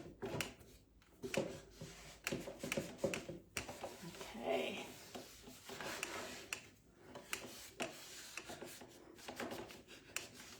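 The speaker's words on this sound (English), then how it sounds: "now I'm going to take this cloth, tacky cloth, and wipe off and get the leftover, all that sanding stuff" A tacky cloth wipes leftover sanding dust off an old wooden chair, giving soft, uneven rubbing and rasping strokes with scattered light knocks of wood, close by, with a brief spoken word.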